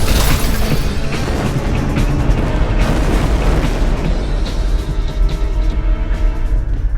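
A huge explosion that destroys a drill rig and bomb, a dense, continuous roaring rumble with heavy low-end boom that stays loud and sustained throughout.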